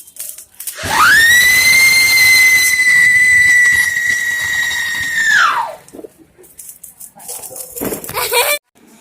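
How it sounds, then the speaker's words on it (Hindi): A whistling firecracker is set off outdoors during a festive night, giving a loud sustained high whistle for several seconds that ends in a fading swoop, then scattered pops, noise and faint voices. "मोर चाचा हा सीटी वाले यानी कि आवाज वाले फटाका फोड़त हे।"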